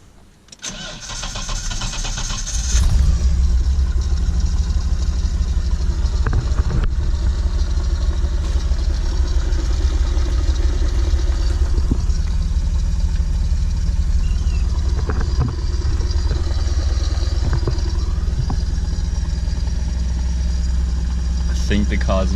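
A Nissan R31 with a manual conversion cranks and fires after a couple of seconds, then settles into a steady, close, rumbling idle that continues to the end, with a few faint knocks over it.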